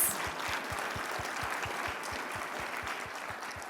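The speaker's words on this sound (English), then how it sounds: "one last round of applause for these local champions" Closing applause for local champions at a soil and water conservation seminar: a thin, fairly quiet patter of clapping with a few distinct rhythmic claps, continuous throughout.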